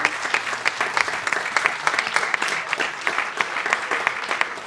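Attendees at a morning e-health conference in Anglet give a round of applause, brisk close clapping with distinct individual claps over a crowd wash, steady and moderately loud throughout.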